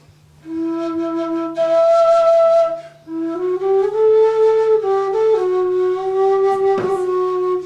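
A low penny whistle plays a slow, simple melody of sustained notes, with a short pause partway through and a brief click near the end.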